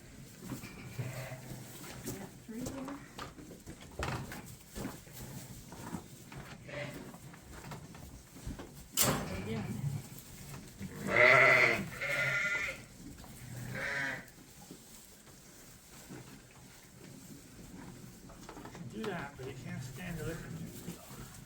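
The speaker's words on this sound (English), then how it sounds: "These are a pair of lambs from Hannibal." Lambs from a ram named Hannibal bleat at a farm, with soft shuffling and a sharp knock partway through, while a person talks over the animals throughout.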